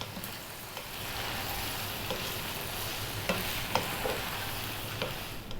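Cooked pasta being gently folded into a salmon cream sauce in a hot pan, giving a steady, even sizzle with a few soft scrapes and knocks throughout, no voices.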